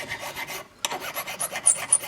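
A finer file rasped across wood in short, quick, repeated strokes, close and crisp, with a brief pause partway through and no talk.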